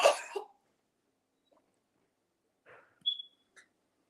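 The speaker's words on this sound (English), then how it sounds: "Wife says excuse her coughing." A woman coughs and clears her throat at home, a sharp burst at the start followed by a few softer, brief coughs, close and fairly quiet.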